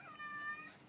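A single short cat meow, faint and slightly drawn out, over a quiet background.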